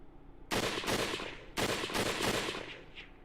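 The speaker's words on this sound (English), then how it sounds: "A gunshot sounded from the entrance." Two sharp gunshots ring out in the samurai-era game Hakuoki: Kyoto Winds, each a loud broadband crack with a lingering reverberant tail, about a second apart, with no talking.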